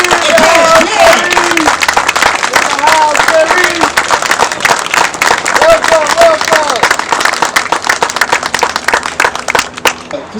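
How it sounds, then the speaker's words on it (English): An audience at a memorial gathering for George Floyd bursts into steady applause for his cousin Gary Jones, sustained clapping with a few voices calling out over it, tapering near the end. "let's give him a big round of applause, Brother Gary Jones, the cousin of George Floyd"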